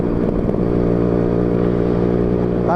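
A motorcycle engine runs through a stock RC exhaust, giving a loud, close, steady droning roar with a rich, even tone that holds for the whole stretch.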